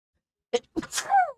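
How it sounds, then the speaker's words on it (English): A single close, sudden sneeze from one person: a short sharp intake followed by a breathy, voiced burst that trails off, with near silence before it. "Oh no, I really have to sneeze."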